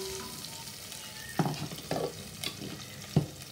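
Shallots sautéing in hot oil for a Rathna Cafe style sambar, a steady close sizzle broken by several sharp scrapes and clinks of a stirring spoon in the pan, with no one speaking.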